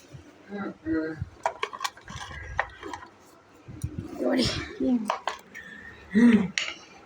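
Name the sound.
cutting a papaya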